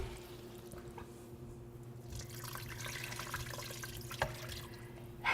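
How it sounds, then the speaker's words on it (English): Water poured into an Instant Pot of beef and noodles, a steady running, trickling flow at close range, fairly quiet, with a couple of small clinks near the end and no talking. "I am gonna put a little bit more water"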